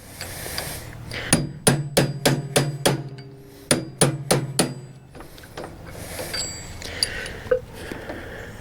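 Bursts of quick, evenly spaced hammer strikes on a seized part of an Ariens ST824 snow thrower during a refurbish, two runs of five or six ringing metallic blows followed by quieter fiddling.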